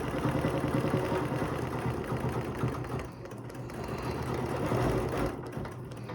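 A sewing machine runs steadily through a geometric quilting design, with a continuous fast mechanical stitching hum that stays loud and close throughout, dipping slightly for a moment before picking back up.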